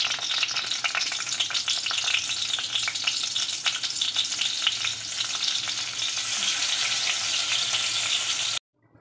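Stuffed brinjals cook in oil in a wok, a steady close sizzle with light crackling and occasional stirring, no voices, cutting off abruptly near the end.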